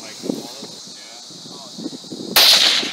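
A single sharp .22 Magnum rifle shot fired into an old hard drive outdoors, heard as one loud, sudden crack that rings out and fades slowly after a stretch of quiet conversation.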